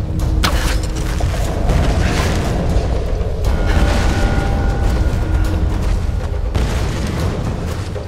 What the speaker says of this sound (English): A lot of explosions going on.